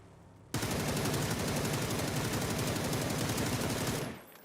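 Sustained automatic gunfire in the battle-royale game PUBG, a rapid unbroken burst lasting several seconds that cuts in abruptly, then stops and fades.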